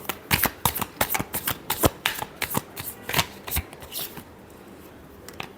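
Tarot cards are shuffled by hand in a quick run of crisp riffling snaps close to the ear, slowing and fading out toward the end.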